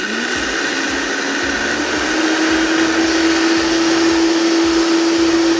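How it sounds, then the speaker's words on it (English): A Vitamix blender grinds toasted coriander seeds into powder, a loud steady high-powered motor whine that holds without a break and rises slightly in pitch partway through, heard alone without any voices. "The Vitamix is so powerful that it basically acts like a spice grinder."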